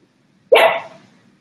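A single loud dog bark close by, sharp onset followed by a short decaying tail, alone against a quiet indoor background.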